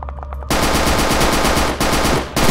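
A Sten gun fires long, dense bursts of rapid automatic shots in a video game, loud and close, with a brief break between bursts.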